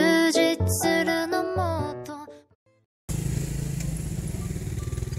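A motorcycle engine runs close by for the last two seconds, a steady rough idle that sets in abruptly after a stretch of loud music and a short near-silent gap.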